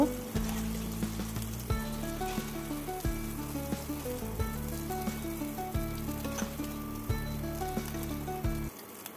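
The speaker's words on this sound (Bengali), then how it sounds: "ওই তেলেই আমি চিংড়ি মাছগুলো ভেজে নেব" Shrimp frying in the oil left over from frying potatoes: a steady sizzle with scattered crackles, sitting under tonal background music that plays throughout.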